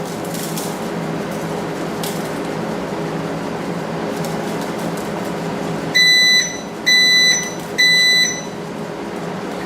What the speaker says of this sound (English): That's my oven telling me it's ready.